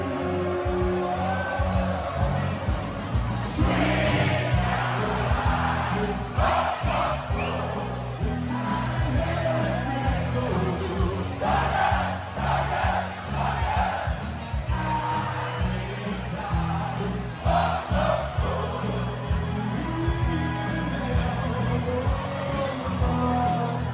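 A large concert crowd cheers and whoops with music playing, a dense, loud mass of voices that swells and falls over a steady beat.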